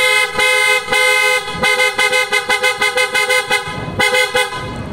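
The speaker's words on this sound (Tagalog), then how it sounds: "napakalakas po ng ating auto style horn mga kabosing" Two pairs of PIAA aftermarket horns on an Isuzu Mu-X honk repeatedly, a few long blasts followed by a rapid run of short toots, then another long blast, close and piercing.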